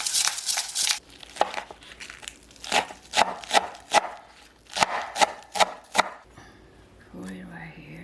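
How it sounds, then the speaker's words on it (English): Black pepper being ground by hand while making Korean bulgogi marinade, a run of sharp crunchy cracks in uneven bursts, close and fairly loud, with no talking. "Grind the peppers,"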